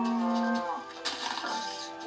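Cows mooing in Minecraft, a drawn-out low call near the start followed by softer animal sounds and game ambience, with no talking.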